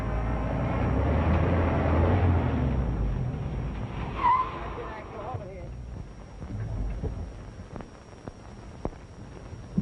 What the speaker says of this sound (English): Step on it, Axel.